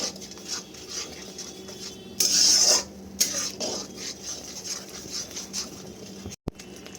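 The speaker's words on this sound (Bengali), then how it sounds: "আদা রসুনের কাঁচা গন্ধটা না যাওয়া অবধি ভালো করে এটাকে মশলার সাথে মিশিয়ে নিয়ে ভালো করে ভেজে নিতে হবে" Ginger garlic paste and spices being stirred and fried in a pan, with a steady soft sizzle under scraping strokes and one loud, harsh rasp partway through. No talking.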